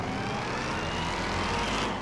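A Dodge car engine in GTA 5 drones steadily and loudly, a continuous revving roar that holds for the whole stretch with no voices over it.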